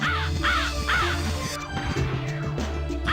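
Crows caw repeatedly in The Ring: Terror's Realm video game, loud harsh calls in quick succession over a steady game background, followed by a few heavier clattering hits.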